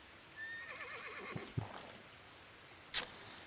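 A horse in the video game Medieval Dynasty whinnies with a wavering, shaky neigh, followed by a snort and a sharp clatter, all in a quiet setting without talk.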